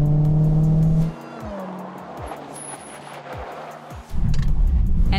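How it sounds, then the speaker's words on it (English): A car whipped sharply around a cone at speed, the engine droning loudly then dropping away as tires scrub with faint squeal and soft thumps, before the engine roars back up at the end. "I needed to cut the wheel 180 degrees in one motion in order to move the car at that speed and not hit the cone."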